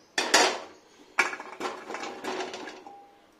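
Pieces of arum clatter into a metal pressure cooker, a few close knocks and rattles of hard lumps against the pot, spaced out over a few seconds with no talking.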